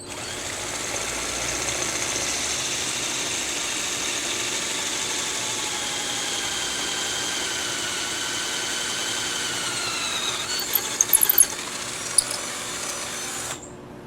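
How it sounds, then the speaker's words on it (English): A power drill bores into a high-quality resin solar light, giving a steady, loud whine with a slight drop in pitch near the end. A few sharp clicks follow before the drill stops abruptly after about thirteen seconds. "I don't know how this drills, so we're gonna find out right now."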